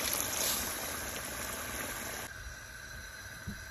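Water poured into a pot of chicken salan curry, a steady rushing hiss that runs close and even before easing off near the end, with no voices.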